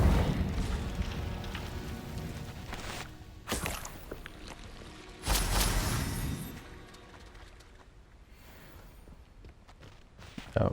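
A fire spell cast in the Hogwarts Legacy video game gives sharp, loud bursts of whooshing blast near 3.5 and 5.3 seconds. Dense game noise runs underneath, and things grow quieter toward the end.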